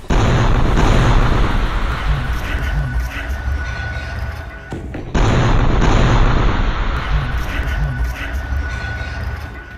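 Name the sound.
bomb explosion under bulldozer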